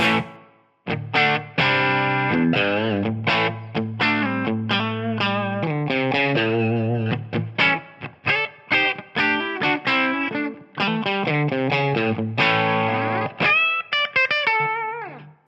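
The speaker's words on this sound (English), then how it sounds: "Let's add in our X Space reverb." Distorted electric guitar chords and notes played continuously through Amplitube with X Space reverb, drenched in effects, with a shimmering tail and brief gaps between phrases.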